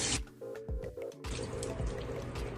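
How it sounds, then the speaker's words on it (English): Water runs and drips over Thai and Japanese white garden eggplants as they are rinsed, with a steady splashing trickle and small clattering handling noises, fairly quiet and close, with no talking. "I'm going to quickly rinse these off"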